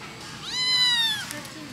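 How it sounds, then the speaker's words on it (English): A kitten gives one clear, drawn-out meow up close, rising then falling, with faint background sounds around it. "if you guys know why he might be meowing"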